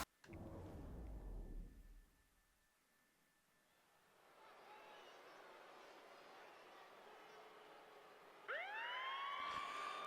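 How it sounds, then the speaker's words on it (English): A siren blares at a professional wrestling event, rising sweeps that build in over crowd noise after a low rumble fades. "Well, that is a siren you don't want to hear."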